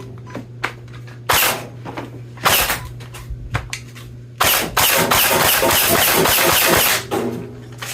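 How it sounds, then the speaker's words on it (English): A BK1S electric foam dart blaster fires in sharp bursts, single cracks at first, then a sustained rapid volley of motor whine and dart shots, loud and close. "Pull the trigger, it will turn on once you have your battery plugged in, and then you can fire."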